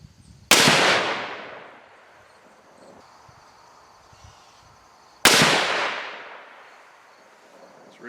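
Two sharp, loud 6.5 Creedmoor rifle shots with 130-grain Sierra Game Changer bullets and H4350 powder crack a few seconds apart on an outdoor range during a ladder test, each followed by a long, fading echo.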